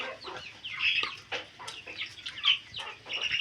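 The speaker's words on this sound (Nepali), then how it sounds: "यति धेरै भाले छ भाले रहेछ" Several roosters clucking in quick, uneven bursts of varying loudness, close by with some calls overlapping, in a Nepali village yard.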